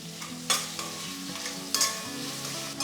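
A paste of ground green chilies and garlic fries in a pan for bisi bele bath, with a soft steady sizzle under occasional sharp scrapes of a spoon stirring against the pan, while faint background music plays.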